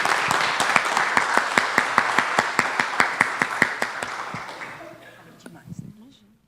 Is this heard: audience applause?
yes